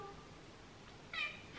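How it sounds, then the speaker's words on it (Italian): A white cat gives one short, faint meow near the end, heard alone over a quiet indoor background. "Gatto Denver mi chiacchiera tantissimo, chissà che cosa mi racconta."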